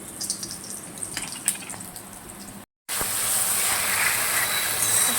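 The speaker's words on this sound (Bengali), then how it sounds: "তেলটা গরম হয়ে গেছে, আমি একটু সাদা জিরে ফোড়ন দিচ্ছি, তেজপাতা দিচ্ছি" Cumin seeds and bay leaves dropped into hot oil for a vegetarian potato curry, at first with light crackles and pops, then after a brief gap a loud continuous sizzling hiss that holds steady.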